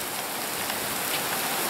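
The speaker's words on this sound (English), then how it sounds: "Wow, look at that rain coming down." Heavy rain falls just beyond a porch, a dense, loud, unbroken hiss of drops pattering on surfaces with no letup and no voices.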